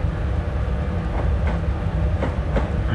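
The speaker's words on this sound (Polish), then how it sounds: "Podobają mi się te dźwięki tych rozjazdów." Train rolling over railway switches in Train Simulator on the Kings Cross to Stevenage line, steady low rumble with a few sharp clicks, loud and without talk.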